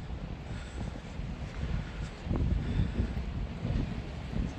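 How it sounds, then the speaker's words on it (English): Steady wind buffeting a microphone on the seafront at Whitby, a low rumbling roar that swells louder partway through, with no other distinct sounds. "This recording, I've just realised that it's windy."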